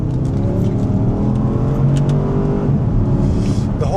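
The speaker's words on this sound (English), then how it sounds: "This engine, it pulls so hard" Engine of a Porsche Cayenne Turbo 958.1, a heavy luxury SUV, pulling hard under acceleration, a loud steady roar heard from inside the cabin that climbs in pitch and holds without gaps.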